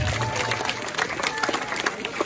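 A crowd at a village ceremony in Belusung applauds in a loose, noisy wash of clapping. Scattered crowd sounds and some talk come through under it.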